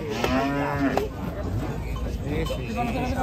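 A cow being unloaded from a truck moos loudly several times up close, over a babble of onlookers talking and some clattering hooves.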